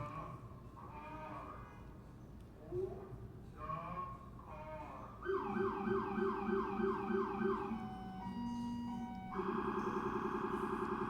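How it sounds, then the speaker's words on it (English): Loud police squad car sirens wailing and yelping nearby, shifting between rising-falling wails and rapid yelp patterns over traffic, with quick switches in tone and no talking over them. "We got some loud police squads there."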